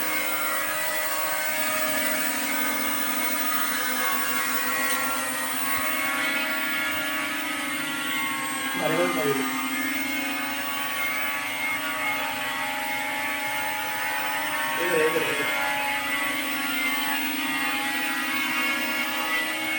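An M3 Max drone hovers inside a cramped room, its propellers giving a steady close whirring drone that rises in pitch briefly twice as it adjusts.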